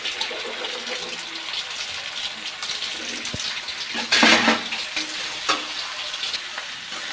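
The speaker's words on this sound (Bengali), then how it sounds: "চিকেন আর মশলাটা ভালো করে একটু কষিয়ে নেব।" Chicken pieces and meat masala being stir-fried in a pan, a steady close sizzle with scraping stirs and a louder burst of frying partway through, no talking.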